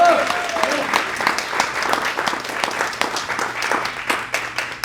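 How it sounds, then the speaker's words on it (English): Audience at a live jazz tribute concert applauds the rhythm section, with steady, close, dense clapping from a crowd and a few scattered voices, lasting the whole stretch. "Let's give a round of applause for John and Tim,"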